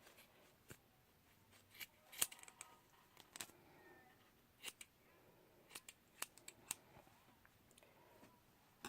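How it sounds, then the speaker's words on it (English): Scissors snip the ends of tulle for making flowers, giving a dozen or so short, sharp cuts at irregular intervals, close but quiet over a near-silent room, with no talking. "You're going to cut the ends"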